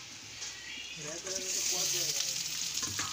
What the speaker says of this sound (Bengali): এরপরে দিয়ে দিচ্ছি রসুন, এগুলো ভালো করে ভেজে নিচ্ছি।